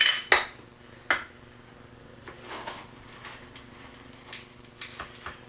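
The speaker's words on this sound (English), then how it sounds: "You add the whole beans to the top, cover, and grind." Hard coffee beans pour and rattle into a small low-cost burr grinder, with a few sharp clinks and scattered light pattering over about five seconds, close and fairly quiet.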